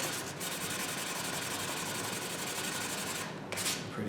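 A sanding block rubs by hand along the sides of a guitar headstock, a dense, continuous scratchy rasp close up with brief pauses near the end, no talking.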